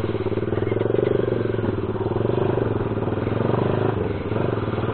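A Kawasaki Z200 motorcycle engine roars close by as it accelerates hard through second gear, a loud, steady rising drone with no pause.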